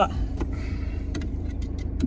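Car engine idling steadily close by as the driver shifts into first gear, a low continuous rumble with faint clicks and rattles scattered over it, a voice talking over part of it.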